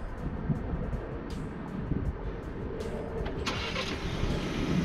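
A 2019 Ford Ranger LARIAT pickup is started remotely from a phone app, and its engine turns over into a steady mid-pitched idle rumble, close by, with some wind buffeting on the mic.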